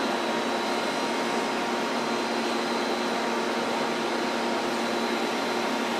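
A Sunnen SV-3 vertical two-stage honing machine runs with a loud, steady broadband whir and hum, constant and close with no pauses or voices.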